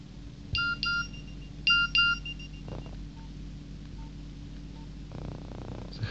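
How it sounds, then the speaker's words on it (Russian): A Nokia 2220 phone plays its message alert tone: two short bright electronic chime bursts close together, then a few faint beeps and soft clicks of button presses, quiet and alone. "Сигналы сообщений."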